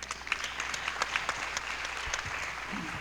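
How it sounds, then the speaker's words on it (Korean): Audience applause at a 2020 maritime and fisheries outlook conference, a steady wash of many hands clapping at moderate distance that fills the whole stretch without any voices. "박수로 환영해 주시기 바랍니다"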